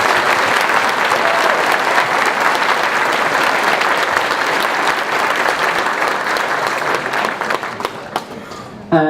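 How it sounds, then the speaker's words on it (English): Audience applause at a furry convention's opening ceremony, sustained and dense clapping from a large crowd throughout, tapering slightly at the end. "A round of applause for Gav, please."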